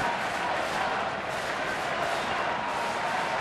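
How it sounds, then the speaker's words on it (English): Sellout baseball crowd at PNC Park on a Saturday night, a dense, steady roar of cheering and chatter that stays loud and unbroken throughout. "An electric sellout crowd here on a Saturday night at PNC Park."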